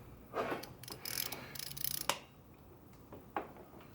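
A ratchet turning a 5/8 spark plug socket on an extension down in a Jeep Wrangler 3.6L engine, quick clicking pawl ratchets in short runs with a sharp knock, close but fairly quiet, no talking.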